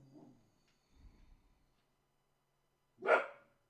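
Max, a dog, lets out one short bark at moderate distance after some faint low rustling, with quiet surroundings otherwise.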